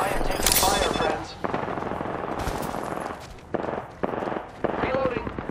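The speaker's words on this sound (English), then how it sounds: "I am taking fire, friends." Video game gunfire in loud bursts, rapid automatic rattles and sharp cracks coming in several clusters separated by brief gaps, with a player's voice talking over it.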